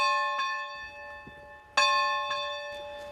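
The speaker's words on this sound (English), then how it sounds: "every morning, students take turns pulling a rope to ring that bell 3 times" A real school bell rung by pulling a rope, struck three times in sequence with long ringing overtones that overlap and fade between strikes, moderately loud with a quiet background.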